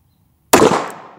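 A single sharp gunshot from an RG Model 40 .38 Special revolver cracks loudly after silence, then rings and decays over most of a second outdoors.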